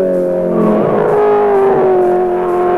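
A 1983 Bathurst 1000 race car climbs Mountain Straight on Mount Panorama, its engine a loud, close, sustained roar whose pitch sweeps and shifts under acceleration.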